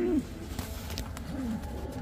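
An Andalusian pigeon gives a couple of soft, low coos, one at the start and another near the middle, heard close and fairly faint over a steady background hiss.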